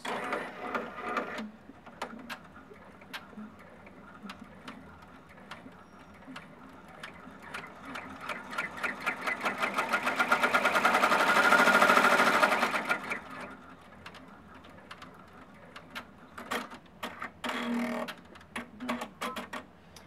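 An embroidery machine stitches the tack-down outline for a fabric leaf, a rapid, even run of mechanical ticks that swells louder for a few seconds and then eases back, close by and alone.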